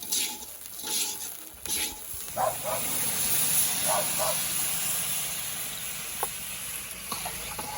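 Water poured into frying rice for biryani, a loud hissing sizzle that swells and then settles into steady bubbling steam, with faint clatters along the way.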